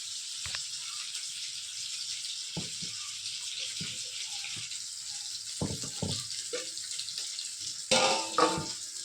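A pot of mackerel curry in coconut milk with vinegar simmers and bubbles toward a boil with a steady hiss, broken by occasional soft clinks and knocks; no one speaks.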